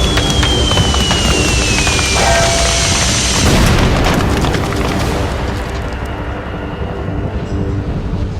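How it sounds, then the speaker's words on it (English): Animated artillery fire, a loud sustained rumbling roar of booms with a descending whistle in the first few seconds, fading gradually toward the end. "Fire the artillery!"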